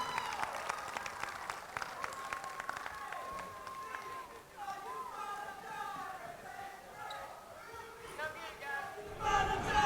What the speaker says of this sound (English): If we can have one more round of applause for the Eufaula Tigers